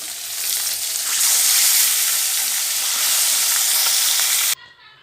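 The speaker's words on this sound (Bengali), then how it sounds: "এবার সবগুলো মাছের মাথা ভেজে নেব" Fish heads fry in hot oil over lowered gas heat for a Bengali cabbage curry, making a loud, steady broadband sizzle that holds for several seconds before cutting off abruptly near the end.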